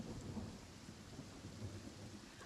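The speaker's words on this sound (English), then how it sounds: "thunderstorms in Sumeru because it sounds so realistic" A Genshin Impact thunderstorm in the Sumeru region: steady rain and low rolling thunder rumble continuously, close and enveloping, with no voices.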